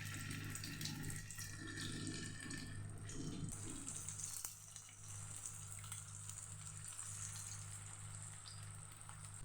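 Plantain pieces dropped one by one into hot oil on a medium flame fry with a steady, close hiss and sizzle, crackling more strongly at first and then settling to a continuous bubbling.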